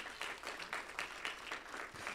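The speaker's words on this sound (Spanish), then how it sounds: "Denle un aplauso al Señor en esta hora" Rhythmic applause from a church gathering, clapping in a steady pulsing beat, fairly soft and somewhat distant, continuous for the whole stretch.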